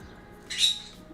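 A parrot gives a single short, harsh squawk outdoors in a garden, moderately close and standing alone over quiet background.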